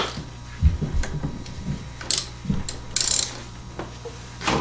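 A hand wrench works on brake caliper bolts on a C6 Corvette, producing sparse metallic clicks, clanks and short ratcheting scrapes at close range, with quiet gaps between them.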